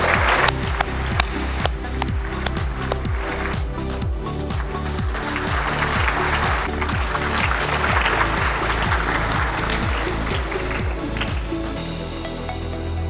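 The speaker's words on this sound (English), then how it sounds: "Round of applause for Revati Madam and Zeroda" An audience at a startup gathering applauds for Revati and Zerodha, a steady wash of clapping that holds for several seconds over a pulsing low rhythmic background.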